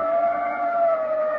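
Ambulance siren played as a radio drama sound effect, a steady sustained wail heard alone at moderate level without speech.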